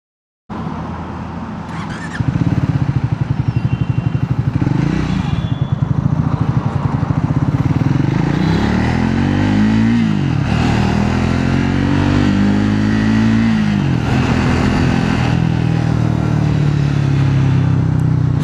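A Triumph Scrambler 400X motorcycle ridden on the road. Its engine is close and loud throughout, with revs climbing and dropping through gear changes under steady wind rush.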